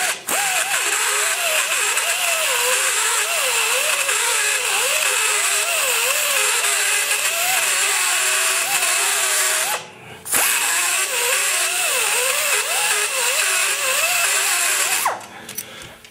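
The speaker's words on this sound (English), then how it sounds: "So I'm just going to keep on sawing at it" Continuous loud buzzing of a power saw cutting through a metal small-block Chevy cylinder head, a steady grinding whine with wavering pitch, pausing briefly twice before resuming.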